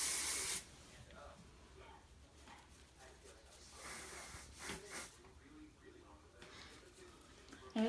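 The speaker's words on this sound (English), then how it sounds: "Hairspray got away from me there. It's spraying on its own." Hairspray blasts from an aerosol can in a sharp, loud hiss at the opening, then a quieter stretch with speech before a brief second burst right at the end.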